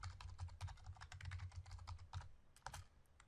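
Steady run of computer keyboard keystrokes as SQL code is entered, rapid and fairly even clicks close to the microphone, alone with no talking.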